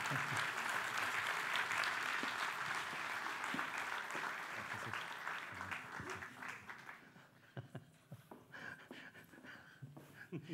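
Sustained applause from a seated audience at a literary gathering in Porto honouring writer José Rentes de Carvalho, loud and dense at first, then thinning into scattered claps and a few murmurs near the end.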